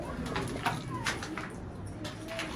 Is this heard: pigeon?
yes